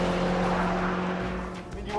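A Seat Ibiza Cupra with a turbocharged 1.4 litre TSI engine, 178 brake horsepower and a 7-speed DSG gearbox accelerates with a steady, strained engine tone that briefly dips before rising again.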